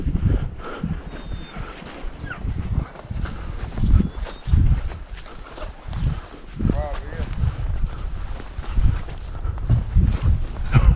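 Hunting dogs work a creek bank while rabbit hunting after rain near Risco, Missouri, with scattered yips and rustling footsteps on wet ground heard close by under frequent talk.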